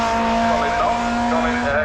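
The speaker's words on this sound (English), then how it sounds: "That blob eye is absolutely moving." A blob eye car speeds past on a race track with a steady roaring engine and a sustained tonal whine, under a loud crowd and talk nearby.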